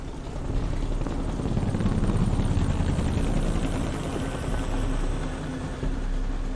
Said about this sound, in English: That is a helicopter. That's a helicopter.